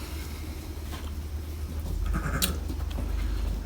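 Sheep on a Turkish farm where ewes have been lambing, with a short bleat rising out of steady outdoor background noise; farm animal calls sit at moderate distance, and no one speaks.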